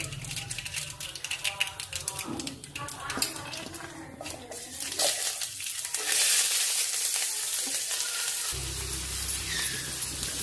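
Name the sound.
spices and onions frying in oil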